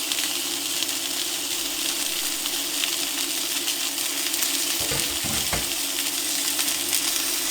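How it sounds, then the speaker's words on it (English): Sausages and onion sizzle and crackle steadily in hot oil on an induction cooktop, a loud continuous fry with a few brief clinks partway through. "Sizzling away nicely."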